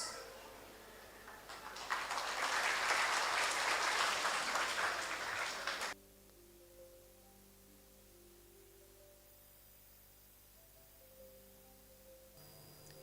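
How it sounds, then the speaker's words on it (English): Audience applause at a school annual day event, a few seconds of dense, steady clapping from a crowd in a hall that stops abruptly, leaving a quiet room tone. "Let's welcome them with an applause."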